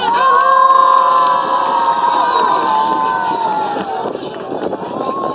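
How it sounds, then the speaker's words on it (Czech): A crowd at a public event in Karlovy Vary cheers and shouts loudly and steadily for a schoolboy, with children's voices and whoops over a dense wash of noise that slowly eases toward the end. "Takže prosím o velký potlesk pro školáka Albertíka."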